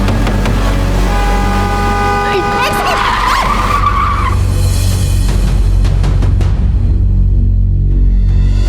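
A car's tires screech loudly in a long skid as it brakes to a sudden stop, the squeal rising and fading over several seconds before a rumbling idle remains.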